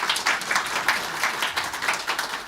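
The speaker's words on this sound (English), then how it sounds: "Applause." Audience applause at a presentation event, a dense steady clapping from a crowd lasting throughout, fairly loud and without speech over it.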